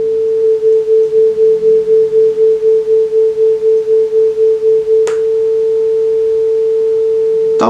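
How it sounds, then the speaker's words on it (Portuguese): A steady 440 Hz tone plays against a second nearby tone, producing regular pulsing beats roughly twice per second. The pulsing stops and the tone holds steady after a brief click, with no speech. "Vou ligar de novo o som de 440 Hz, voltando o batimento."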